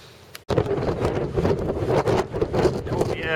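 Strong wind buffeting the microphone on the coast of Jersey near a lighthouse in December, a loud continuous roar and rumble after a brief cut at the start, with gusts surging and easing throughout.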